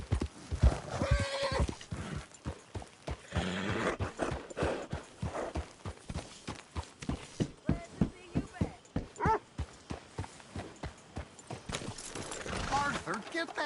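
A horse in a western cowboy video game clops along in a quick, steady rhythm of hoofbeats with an occasional whinny, while voices talk over it.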